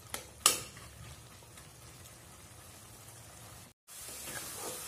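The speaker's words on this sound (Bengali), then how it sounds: "3 থেকে 4 মিনিট আমি ভালো মতন কষিয়ে নেব লাউটাকে। এভাবে একটু নাড়াচাড়া করে দেব" Bottle gourd being stir-fried dry in a pan, a continuous close sizzle with scraping strokes of a spatula and a sharp clack near the start, broken by a brief cut before the frying resumes.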